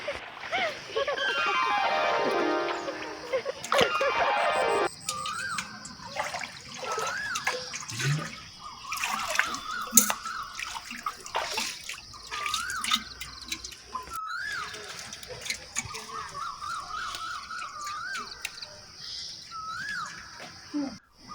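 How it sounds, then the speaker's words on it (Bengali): River water splashing and gurgling close by in irregular bursts, with bright chirping bird-like calls scattered over it. "নদীতে পানির কোলাহল শোনা যাচ্ছে"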